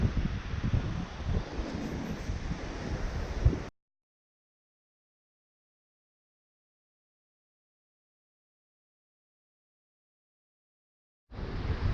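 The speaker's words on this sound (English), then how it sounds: "The wind is kicking" Strong wind on a beach on Bantayan Island in the Philippines buffets the microphone, producing loud rumbling gusts for several seconds. Abrupt silence follows, then the blustery noise resumes at the end.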